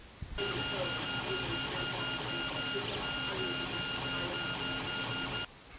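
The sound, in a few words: 3D printer printing dart barrel test part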